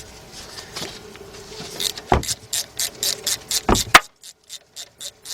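Socket ratchet on a 6-inch 3/8 drive extension turning a 15mm bolt on a 2001 Saturn L300 3.0 alternator, a few scattered clicks and knocks, then a brisk run of sharp, close ratchet clicks toward the end.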